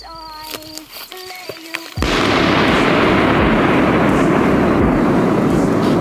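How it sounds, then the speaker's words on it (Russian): A small firecracker goes off with a sudden loud crack that rolls into a sustained, harsh blast of noise filling the rest of the clip, after a few seconds of voices talking beforehand. "Это была просто маленькая петарда."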